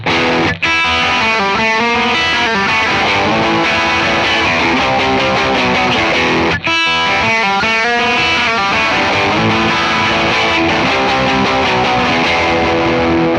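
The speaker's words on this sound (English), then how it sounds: "here's some drive tones" Overdriven Fender Vintera III Mid '60s Jaguar electric guitar playing gritty, crunchy chords and riffs, loud and continuous, with a brief pause partway through.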